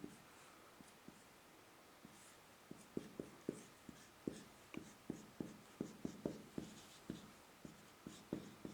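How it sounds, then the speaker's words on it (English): Pen scratching out equations by hand on paper, a quiet run of short rhythmic strokes that start sparse and grow steady and regular, close up with no talking. "I am writing again."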